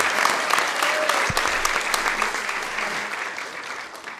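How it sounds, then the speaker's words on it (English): A room of attendees applauds at a Sacramento City Council meeting, steady moderate clapping that holds for the whole stretch and tapers slightly toward the end. "Round of applause for all of the people here who have been working together."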